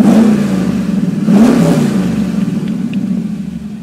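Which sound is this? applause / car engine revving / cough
car engine revving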